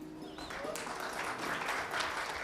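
A crowd at an Urdu quiz and award ceremony applauds steadily, a dense wash of clapping that stays fairly distant and even throughout.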